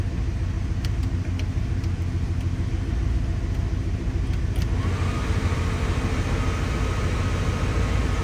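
Blower fan of a 1989 Jeep Grand Wagoneer pushing air out, a steady, loud broadband whoosh over a low rumble, continuous throughout with a slight change in pitch partway.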